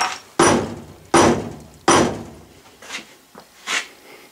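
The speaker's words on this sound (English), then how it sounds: "I can peen that over." A hammer peens over soft lead with three solid, evenly spaced strikes, then two or three lighter taps that fade, close and loud with no voices.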